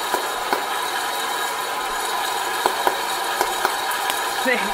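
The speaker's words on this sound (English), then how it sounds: "This air popper makes the best popcorn" Popcorn popping in an air popper with melted butter nearby, sharp scattered pops over a steady fan whir, with people talking.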